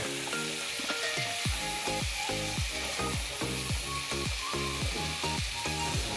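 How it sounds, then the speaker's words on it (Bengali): Steady, loud sizzling of vegetables frying in a pan over low heat as the water dries off, with rhythmic scraping and stirring strokes throughout and no voices. "এবারে একটু লো আঁচে রাখবো যাতে সবজিগুলো খুব ভালো করে একটু ভাজা ভাজা হয়"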